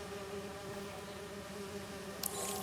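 Bees buzz steadily in Marvel's Spider-Man 2 video game, a continuous insect drone with a brief brighter burst near the end, fairly quiet and with no talk over it.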